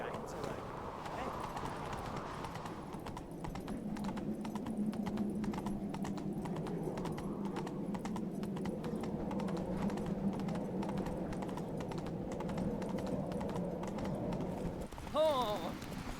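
A horse gallops in the video game The Witcher 3, its hooves pounding in a steady, rapid rhythm throughout, while voices talk over the running and a brief shout rises near the end.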